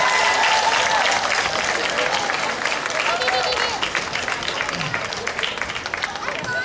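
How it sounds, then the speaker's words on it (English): A crowd at a small-town pep rally and parade claps and cheers in a dense, sustained round of applause that fades slightly toward the end, with voices mixed through it. "We want to give those people a great round of applause for our rec department."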